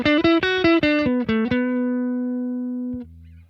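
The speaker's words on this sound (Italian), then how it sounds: "col pedale acceso tutte le note hanno più definizione, hanno un maggior corpo" An electric guitar is played through a switched-on effect pedal: a quick run of bright plucked notes ends in one long sustained note that slowly fades, followed by a short low tone, with no voices.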